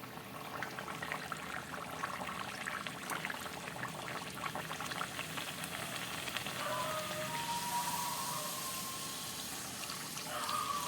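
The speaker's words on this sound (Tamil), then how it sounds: "இப்போ நான் வந்து கடாய் வச்சுருக்கேன் அது நல்லா சூடாயிடுச்சு எண்ணெய் வந்து நமக்கு சூடானதுக்கப்புறமா நம்ம வந்து பூரி சேர்த்துக்க போகிறோம்" Puri frying in hot oil in a kadai for tomato puri, a steady dense sizzle and bubbling hiss running continuously throughout, close and fairly loud, with no talking.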